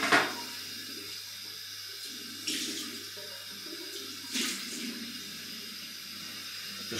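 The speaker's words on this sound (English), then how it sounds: "Get a bit of warm water going." Warm water runs steadily from a sink tap ahead of a wet shave, a continuous close splashing hiss with a couple of brief louder surges of flow, and no voices.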